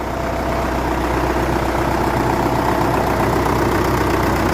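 An engine runs at a steady idle after fuel system repair, with a smooth, even exhaust rumble, close and continuous.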